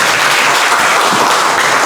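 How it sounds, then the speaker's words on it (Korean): Dense, steady applause from a seated audience at a Korean forum on peace, unification and civic education, filling the room for the whole stretch with no talking over it. "박수 한번 해주십시오"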